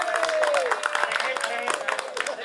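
Applause from a group of colleagues at a graduation celebration on an outing in Malino, steady clapping filling the whole moment with voices and cheers mixed in throughout.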